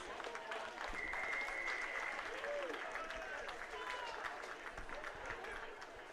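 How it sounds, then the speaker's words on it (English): Audience applause at an ISCA summer senior swim meet, a steady patter of clapping from a crowd in an indoor pool hall, moderately loud and continuous, with faint voices mixed in. "Let's give a round of applause to all the 400 freestylers."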